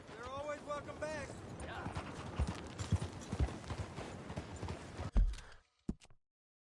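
A horse clip-clops at a steady walking pace in the video game Red Dead Redemption II, hoofbeats close and rhythmic, with a horse's snort and a sharp knock near the end.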